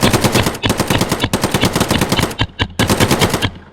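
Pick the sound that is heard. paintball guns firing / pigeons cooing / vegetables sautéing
paintball guns firing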